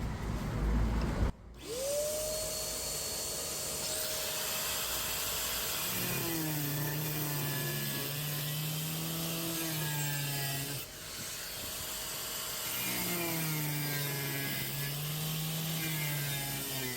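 A power grinder cuts a toilet drain pipe. It spins up to a steady high whine, then makes two long cutting passes that add a lower, rough grinding tone. The sound is close and continuous.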